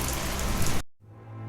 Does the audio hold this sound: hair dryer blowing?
no